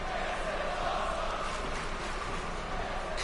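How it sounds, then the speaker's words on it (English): Wrestling arena crowd roaring in a steady chant at a women's match, a dense, continuous wash of many voices filling the space, fairly loud and unbroken throughout. "You hear the crowd chanting"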